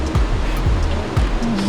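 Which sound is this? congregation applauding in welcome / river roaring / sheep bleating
river roaring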